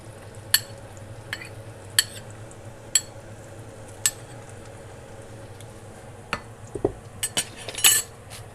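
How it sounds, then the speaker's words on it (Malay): A large onion being sautéed in a pan, with a low sizzle and sharp, regular clinks of a utensil against the pan, followed by a quicker cluster of scraping taps. "Jadi sekarang dah aku nak tumiskan dalam 1 biji bawang besar."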